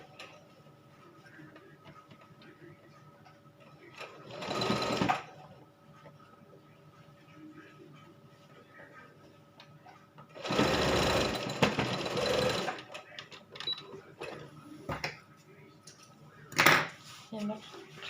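Sewing machine stitching a child's jacket with firm, strong seams, running in three bursts of a few seconds each, the longest about two seconds, separated by quieter stretches of handling sounds.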